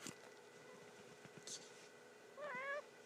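A cat gives a single short, clear meow near the end, against an otherwise quiet indoor background with faint small noises.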